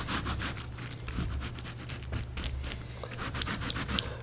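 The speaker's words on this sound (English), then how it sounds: "Now I'm going to just add a little water on here so I can rub this" Hands rub wet wool laid over a resist while felting a witch hat, a steady close-up scrubbing and rasping with rhythmic back-and-forth strokes throughout, no voices.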